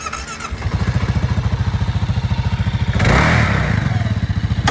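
A used 2022 Kawasaki KLR650 dual sport motorcycle's fuel-injected single-cylinder engine idles with a loud, steady thumping pulse, then revs up briefly before settling back to a rhythmic chug.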